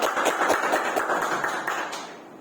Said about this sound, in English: You big a round of applause for them.